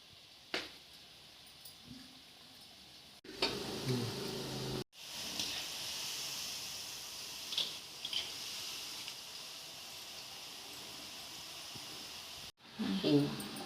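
Murukku (karapusa) dough pressed through a murukku press in rings straight into hot oil, giving a steady broadband sizzle and hiss that runs throughout, with a few short pauses.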